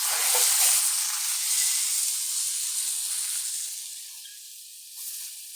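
Wagyu Denver steak sears in a hot pan with a steady, loud sizzling hiss. The sizzle eases slightly toward the end, and no one speaks over it.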